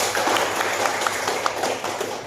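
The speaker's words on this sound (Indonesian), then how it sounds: "Tepuk tangan untuk kelompok 2." Students in an Indonesian classroom applaud a group, producing a steady, noisy wash of overlapping claps at close range. A few sharper slaps poke through the continuous clatter.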